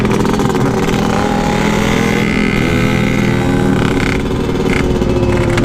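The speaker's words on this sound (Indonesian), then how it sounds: "Asli motornya dia kenceng banget." Yamaha RX-King motorcycle running fast at high speed, its two-stroke engine droning loud and steady throughout with a slight rise in pitch, no voices.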